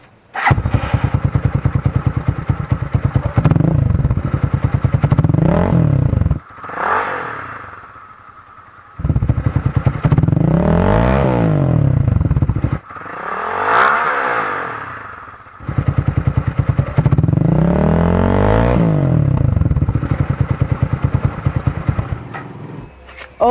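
A motorcycle fitted with a traditional silencer revs hard in repeated bursts, each rising and falling through loud roaring sweeps with short idle gaps between, close and dominant.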